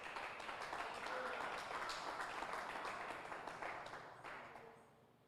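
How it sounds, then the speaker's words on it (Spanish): A church congregation applauds during a sermon on the Church's struggle against the powers of evil, with a broad, fairly faint wash of many hands clapping that gradually fades toward the end. "Denle un aplauso, Señor."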